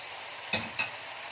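Sausage and onions are turned over in a frying pan, with a steady sizzle underneath two soft scraping stirs, close and moderately quiet, and no voices.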